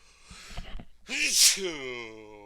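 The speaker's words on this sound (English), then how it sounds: "I'm gonna sneeze." A single sudden sneeze bursts out close by after a sharp intake of breath, then trails into a voiced exhale.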